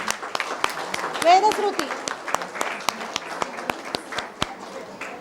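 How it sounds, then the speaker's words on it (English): Scattered claps from an audience at a fourth anniversary function, coming in loose, uneven bursts, with voices talking over them throughout. "let us all give her a very big round of applause"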